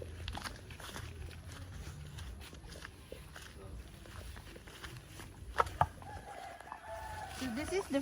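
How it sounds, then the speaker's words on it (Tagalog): Chickens cluck and scratch around at feeding time in a rural province yard. Footsteps shuffle nearby, a few sharp clucks stand out near the end, and people talk softly in the background. "We're going to feed the chickens and the dogs."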